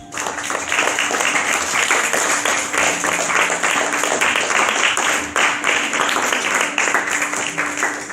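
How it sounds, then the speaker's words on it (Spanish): A church congregation claps in a strong round of applause, loud and continuous with a dense patter of many hands and no speech. "Vamos a dar un fuerte aplauso"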